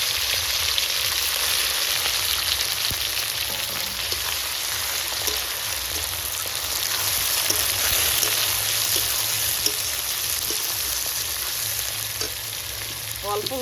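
Onion and tomato fry together in a pan with a loud, steady, close sizzle and crackle that continues throughout, with no talking.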